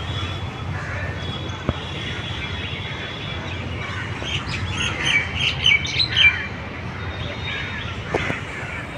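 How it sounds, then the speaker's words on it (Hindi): Birds chirp and tweet in scattered calls over a steady outdoor background at a civic center with date palms and a fountain, a few sharp notes standing out midway. "कितनी चिड़ियाओं की आवाज़ आ रही है पता है आपको"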